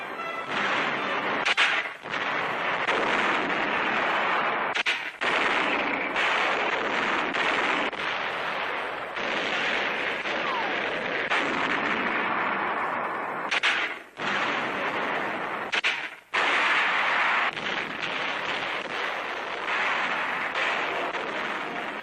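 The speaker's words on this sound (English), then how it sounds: "American tanks and mortars now blast German hillside strongholds in the center." American tanks and mortars fire on German hillside strongholds during the 1944 Italian campaign, a dense, continuous barrage of blasts and bangs with only brief gaps, loud throughout.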